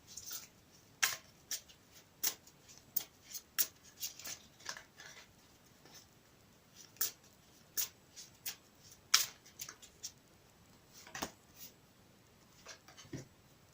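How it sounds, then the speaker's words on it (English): Crisp, irregular flicks and riffles of tarot cards being shuffled, a string of sharp taps and snaps close by with brief pauses between, no voices. "I'll give them another quick shuffle for you"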